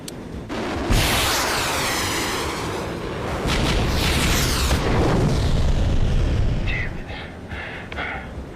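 Heavy booms and explosive blasts from weapons fire in an action film, a loud dense roar that swells over several seconds and then thins into scattered bursts with faint voices beneath.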